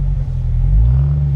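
A tracked 2013 Corvette Z06 rumbles on the move, a deep, steady engine drone with a slight rise in pitch, loud and close throughout the short stretch.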